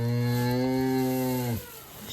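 A cow that has just calved lets out one long, loud, close moo lasting about a second and a half before it cuts off, with no talk.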